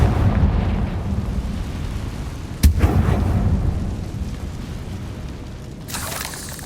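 A Confringo fire spell from Hogwarts Legacy goes off as a sudden sharp boom about midway, set within a steady rumbling game soundscape, with a brighter hissing burst near the end.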